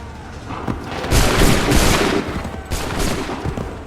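A musket volley in Assassin's Creed III: one loud, massed burst of gunfire swells and rolls for a moment, then a second ragged wave of shots follows close behind.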